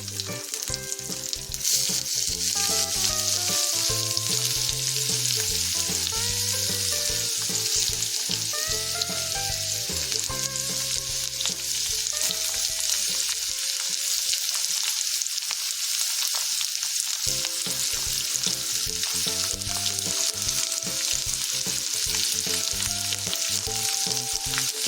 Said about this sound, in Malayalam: ഇതിന് ശേഷം നമ്മൾ അരിഞ്ഞ് വെച്ചിരിക്കുന്ന സവാള ഇതിലേക്ക് ചേർത്ത് കൊടുക്കുക.